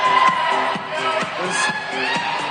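Crowd at a Dallas Derby Devils roller derby bout cheering and whooping, a loud, continuous mass of voices with bursts of rhythmic chanting, close and filling the whole short stretch.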